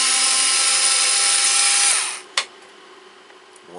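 A power screwdriver whirs steadily for about two seconds, then winds down and stops with a single sharp click, as screws come out of the transformer of a Technics SL-PG480A CD player.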